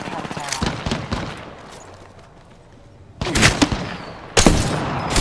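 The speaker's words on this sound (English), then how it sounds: "They're shooting us." Bursts of rapid video game gunfire, dense automatic shots early on, then two louder volleys after a quieter stretch, close and punchy, with a voice speaking over parts of it.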